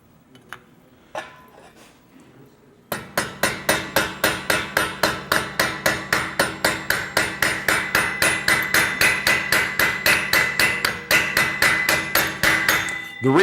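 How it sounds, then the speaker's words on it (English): A blacksmith's hammer strikes a small rivet at a smithing conference demonstration, a long run of fast, steady, ringing metallic blows, loud and close, after a few quiet taps at the start. "I'm a little shy at times to use my regular hammer on a small rivet like this"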